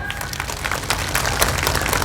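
Enthusiastic applause from a crowd at a political rally for a Santali party, a brief dense burst of clapping, loud and close, with faint voices mixed in.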